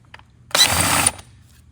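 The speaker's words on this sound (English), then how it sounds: "So, gently drill them out." A single short burst of a power drill drilling out a pop rivet on a 1975 Chevrolet Corvette, whirring for about half a second, close and fairly loud, surrounded by quiet.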